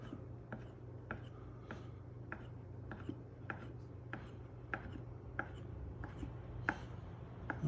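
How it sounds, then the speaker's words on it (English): A knife slices homemade basil noodles on a cutting board, producing a steady series of about a dozen crisp, evenly spaced taps over a low background hum. The sound is quiet and close, with no talking. "Cut your noodles the thickness you want."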